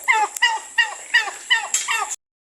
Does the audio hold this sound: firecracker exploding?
no